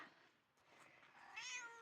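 A cat in a garden lets out a single rising, drawn-out meow near the end, after a quiet stretch of faint outdoor background. The sound is soft and close.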